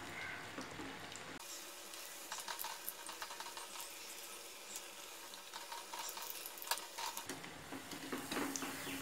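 Banana flower vadai deep-fries in hot oil on a low flame, a soft continuous bubbling sizzle with light patter, quieter through the middle and picking up again at the end.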